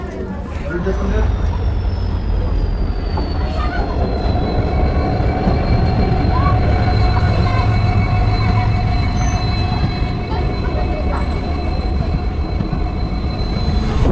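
A DEMU passenger train rumbles steadily at Sangola railway station, with a long high wheel squeal and constant roaring noise throughout, loud and close.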